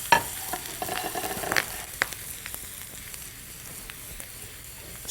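Fresh chilies with cumin powder, turmeric and asafoetida sautéing in a hot pan, a close, continuous sizzle broken by repeated clicks and scrapes of a spoon, busier at first and then easing into a softer fry.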